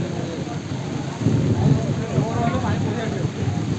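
Heavy rain falls during a storm in a steady, loud wash of noise that swells a little after the first second and holds.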